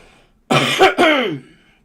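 A close, loud cough broken into two harsh bursts, heard alone against near silence.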